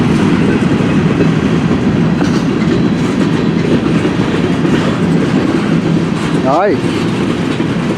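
A CN M384 eastbound freight train rolls past in Port Huron, Michigan, its steady loud rumble and clickety-clack of wheels filling the whole stretch, with a brief squeal near the end and a voice speaking over it.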